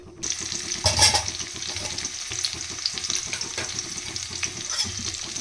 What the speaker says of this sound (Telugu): ఇప్పుడు ఆనియన్ వేసి ఫ్రై చేద్దాం